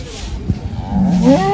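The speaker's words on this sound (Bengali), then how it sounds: "হাটে বড় কিছু গরু আছে" A single cow moos up close at a cattle market in Khulna, Bangladesh, a low drawn-out bellow that rises at the end.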